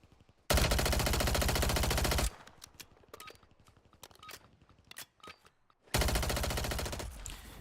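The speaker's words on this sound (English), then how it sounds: "Muzzle rise is a little bad, but that is very, very, very long range to be using an SMG." SMG fire in Call of Duty Warzone comes in two loud, rapid sustained bursts, the first about two seconds long and the second starting near the end, separated by scattered clicks and single shots.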